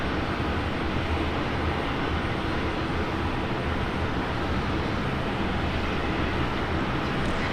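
A Jetstar jet airliner on domestic departure roars steadily down runway 19 right at Brisbane Airport, a loud, continuous broadband engine rumble holding constant and unbroken throughout.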